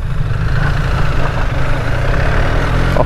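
BMW R 1300 GS Adventure motorcycle pulling away in automatic D mode with no clutch, its engine a steady low rumble that stays loud and close throughout with no voices over it.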